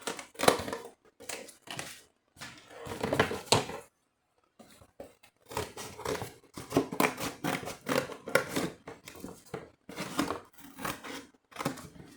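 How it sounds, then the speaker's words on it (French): Large scissors cut during a craft project decorating a box of felt-tip pens, giving crisp, crunchy snips in quick irregular bursts with a short silent pause partway through. "Je vais essayer avec les grands ciseaux, mais je crois qu'ils ne coupent pas top top"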